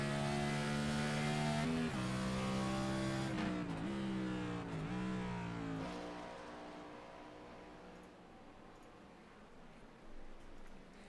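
NASCAR Next Gen race car in iRacing at Watkins Glen, engine droning loudly with several gear shifts and revs rising and falling, then the note fading as the car pulls away, with a brief blip near the end.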